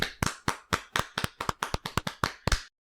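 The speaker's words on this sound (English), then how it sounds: "And everybody clap your hands." About fourteen sharp, dry hand claps ring out in a quick, slightly uneven rhythm, close and crisp, each with a short decay, ending abruptly after under three seconds.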